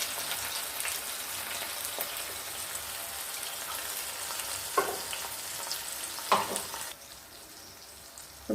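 A paste of tomato, cumin and green chilies fries in hot oil in a kadai, making a soft, steady crackling sizzle with a couple of brief stirring scrapes before it quietens near the end.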